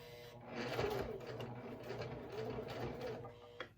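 A domestic sewing machine stitches through a wallet, whirring in a steady run for a few seconds at low level, with a brief click near the end.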